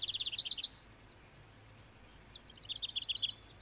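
Loud bird chirping in a mountain vale in the video game Ace Attorney Dual Destinies: a quick burst of high tweets, a short lull, then another rapid run of chirps, close and bright.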